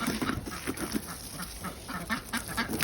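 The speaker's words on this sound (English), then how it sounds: "I'm sure you hear those ducks in the background. They are loud" Several ducks quack repeatedly in loud, overlapping bursts, a busy flock close by with a faint high hum in the background.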